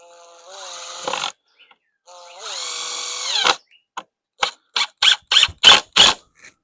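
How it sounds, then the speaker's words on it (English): Power drill driving 1.5 inch wood screws to join lumber for an egg mobile build, heard as two longer whirring runs followed by a rapid series of short bursts, loud and close with no talk. "You just use whatever you got, but we'll screw this together."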